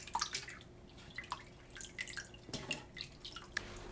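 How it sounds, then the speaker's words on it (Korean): Thawed shrimp rinsed by hand in a bowl of salted water, with soft close splashes, drips and sloshing in irregular bursts, quiet throughout. "냉장 해동한 새우 넣고 헹궈주세요"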